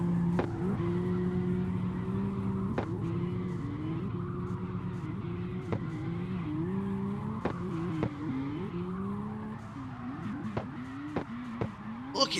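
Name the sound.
Supra drift car engine and tires in a racing video game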